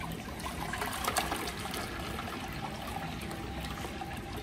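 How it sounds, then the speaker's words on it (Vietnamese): A Toto CS769 toilet flushes with a steady rushing, gurgling wash of water, close and continuous with a slight surge near the start. "tôi sẽ tiến hành xả đại để chúng ta xem qua cái đường nước hoạt động của lò bồn cầu như nào ha"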